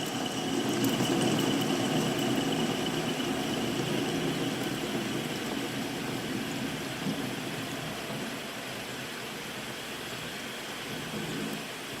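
Lathe turning a workpiece in a facing operation in a workshop lab, a continuous broadband machine rumble and hiss held steady for twelve seconds, fading slightly toward the end.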